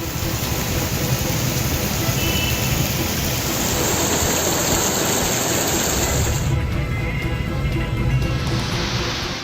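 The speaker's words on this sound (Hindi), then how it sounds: "मध्य प्रदेश के रतलाम में 10 अगस्त से भारी बरसात हो रही है।" Heavy rain during flooding in Ratlam, Madhya Pradesh: a dense, steady wash of falling water, loud and unbroken throughout.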